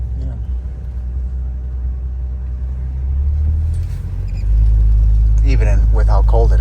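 A 1965 AMC Rambler Marlin drives along on a cold day, its engine a steady low rumble that swells louder partway through, with people talking over the noise.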